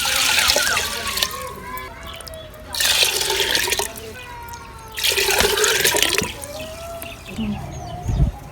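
Water poured from a cup into a pot of whole masoor lentils in three separate gushing pours, each a loud, close splashing rush lasting about a second or two, with brief quieter gaps and a faint voice between.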